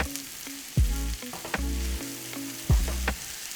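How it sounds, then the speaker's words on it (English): Cabbage and onions sautéing in a pan give a steady close sizzle, broken by several louder thumps and scrapes as the vegetables are stirred and pushed around, with no talking. "Encourage the cabbage to get to the bottom of the pan so it can start to caramelize."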